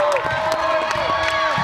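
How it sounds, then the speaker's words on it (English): Crowd cheering and clapping at a basketball game, a dense, steady roar of voices with scattered whistle-like tones, close and continuous throughout. "The crowd erupted and cheered for April to shoot."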